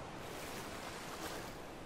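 Waterfall rushing inside a hidden cave in ARK: Survival Evolved, a dense, continuous hiss and roar of falling water, steady and fairly loud with no pauses.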